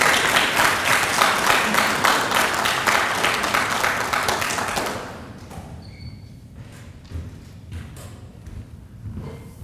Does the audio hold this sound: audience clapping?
yes